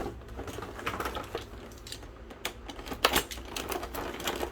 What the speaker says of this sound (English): You can listen to me play around with the knife and fighting to get him out of his plastic tomb.